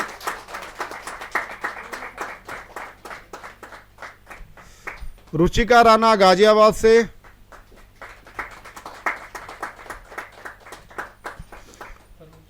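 Clapping from the audience at a Hindi poetry gathering (kavi sammelan), scattered rhythmic claps running beneath a voice reading out names, with a brief burst of speech-like sound in the middle.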